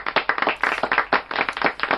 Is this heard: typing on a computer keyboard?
no